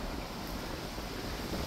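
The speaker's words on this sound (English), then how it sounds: "This is gonna be a pretty windy video." Steady, loud wind buffeting the microphone outdoors in Delta, Utah, a constant roaring rush with no other sounds standing out.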